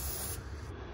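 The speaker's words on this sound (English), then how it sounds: "spray the crap out of it for 20 seconds, and it should freeze this bolt" Freeze spray penetrant hisses steadily from an aerosol can onto a stuck bolt on a truck, a close, continuous spray that tapers off near the end.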